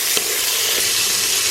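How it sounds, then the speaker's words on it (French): Chicken livers sauté in melted lard in a saucepan, giving a steady, loud, close-up sizzle and crackle with faint stirring taps and no voices. "Je fais fondre le lard dans une casserole, puis j'y ajoute les foies que je fais sauter 2 minutes."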